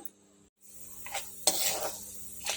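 Chana dal and urad dal frying in a pan, a soft steady sizzle broken by a few brief scraping stirs, close and without talk.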